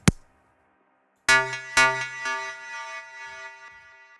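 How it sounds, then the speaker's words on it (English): A metallic synthesized bell in a melodic techno track rings out in a few struck notes, each ringing with a shimmering decay, after one sharp initial hit and a short silence. "below that we have this bell sound."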